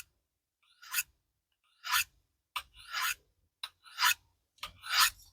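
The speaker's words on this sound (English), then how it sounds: "I'll go sharpen this" A knife blade drawn across a sharpener in seven separate rasping strokes about a second apart, close and crisp, with quiet pauses between each pass.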